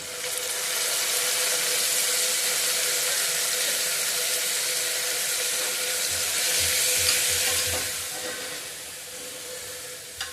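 Chopped tomato sautéing with onion in a pan for masoor pulao: a steady, loud sizzle and hiss of frying runs throughout, with faint stirring scrapes and no voices.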